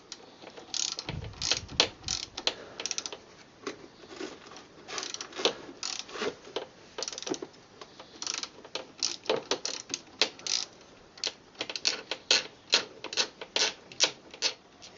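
A 13mm ratchet loosening the auxiliary drive belt adjuster on a 1990 Mercedes-Benz W124 300CE coupe, long steady runs of fast clicking in repeated strokes, close and crisp, with a brief low clunk near the start and no speech.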